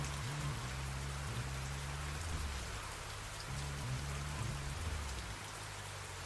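Steady rain falls in the zombie-filled game GTA Fall of Vice City, a continuous broadband hiss held at an even level throughout, with low droning game music running underneath and no talk.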